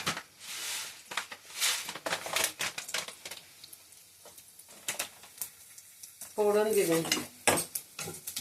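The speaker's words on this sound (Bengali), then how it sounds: "ফোড়ন দেখুন ফুটে গেল" Spices for tempering crackle and sputter in hot oil in a wok on a gas stove, with scattered sharp pops and bursts at a moderate level, plus a brief tonal squeal partway through.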